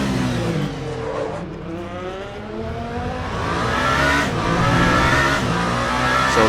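Race car engine in Le Mans Ultimate, roaring steadily through a turn with a shifting, whining pitch as revs rise and fall, loud and close with a faint tire squeal.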